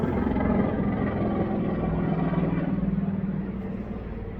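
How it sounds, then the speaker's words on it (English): Helicopter flying nearby, a steady low rumbling drone with a faint pulsing rotor chop that swells slightly toward the end, moderately loud and heard alone without any voice. "And now we shall pause for the helicopter."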